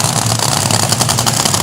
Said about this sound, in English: So that wonderful cackling noise you hear is the Donovan Hemi in Havoc.